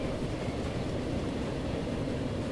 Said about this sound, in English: That's an old passenger train.